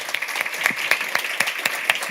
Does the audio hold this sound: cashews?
no